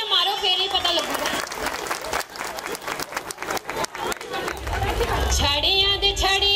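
An audience claps at a village Teez celebration in Darapur, giving several seconds of quick, rhythmic clapping, with voices heard before and after it.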